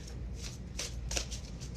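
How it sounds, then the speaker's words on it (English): Tarot cards being shuffled by hand during a live zodiac reading, a close, continuous papery riffle with a few louder flicks over under two seconds, with no talk. "I shuffle, guys."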